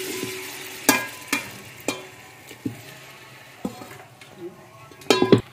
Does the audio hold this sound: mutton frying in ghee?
yes